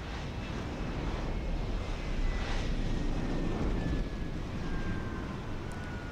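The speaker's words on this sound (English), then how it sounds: "Just the handy dandy jet landing." Jet aircraft landing in the video game Deus Ex: Human Revolution, a steady broadband roar with a faint whining tone gliding slowly downward, swelling midway and holding loud throughout with no talk.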